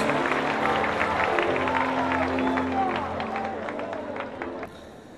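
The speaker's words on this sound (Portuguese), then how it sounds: "glorificando e aplaudindo a Jesus" A church congregation applauds, clapping mixed with crowd murmur and shuffling as people settle, gradually fading before a voice begins near the end.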